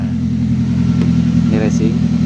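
Car exhaust with a valvetronic valve switched to racing mode, a steady loud low engine drone running throughout, with a brief voice speaking near the end.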